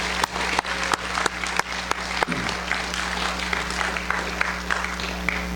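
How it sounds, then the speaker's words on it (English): Warm applause from an audience at a senior awards ceremony for the class of 2017, dense clapping with a few sharper claps standing out, sustained and steady throughout. "I'd like to give you a round of applause for all that you've done in the class of 2017"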